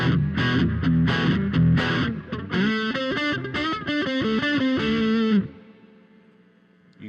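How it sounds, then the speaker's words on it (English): An electric guitar plays a rhythmic run of chords, with a distorted signal blended with a clean one through a Blue Guitar amp, then a final ringing chord fades out. "You got a distorted signal in your right ear. And I'm mixing it with a clean signal through the Blue Guitar amp."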